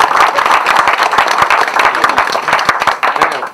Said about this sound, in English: I could ask you to thank Mum with a few whistles, cheers and some applause in her general direction